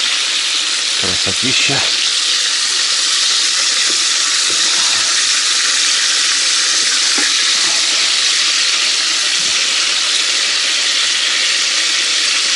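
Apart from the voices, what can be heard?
chicken tabaka frying in a pan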